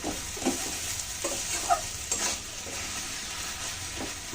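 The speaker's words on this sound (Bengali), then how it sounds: "বন্ধুরা এটা আমি এখন একটু ভালো করে মিশিয়ে নিয়ে নামিয়ে নেব।" Cooked kalai greens with potato being stirred in a pan, with close scraping strokes of a spatula over a soft continuous sizzle.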